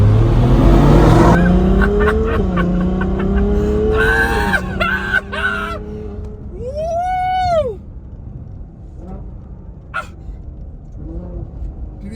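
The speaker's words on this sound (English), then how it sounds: "Let's test out how fast this car can go." A 2018 Ferrari GTC4 Lusso accelerates hard, its engine note climbing loudly through several gear shifts and revving high before easing off to a quieter hum.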